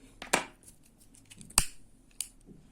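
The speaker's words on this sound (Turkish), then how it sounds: "Daha sonra yine kesiyorum." Sharp scissors snip through fabric for a needle lace hydrangea flower, three crisp close cuts spaced apart over soft handling rustle, no speech.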